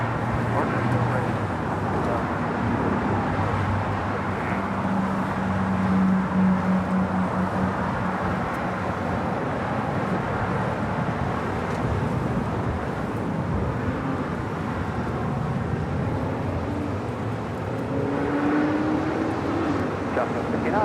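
A Delta heavy jet airliner takes off from runway 24 left at LAX, producing a loud sustained engine roar and rumble that holds steady, with radio voices heard over it.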